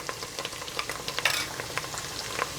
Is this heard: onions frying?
yes